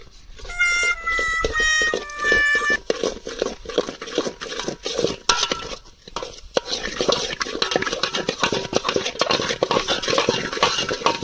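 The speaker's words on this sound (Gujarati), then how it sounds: "આપણે ઘરેથી ચમચો લઈ આવતા ભૂલી ગયા છીએ એટલા માટે દાંતેડું છે એનાથી હલબલાવી નાખી" A sickle is used in place of a spoon to stir khichdi in a pot outdoors in the forest, making busy, close metallic scraping and clattering that runs almost continuously, with a brief tonal sound near the start.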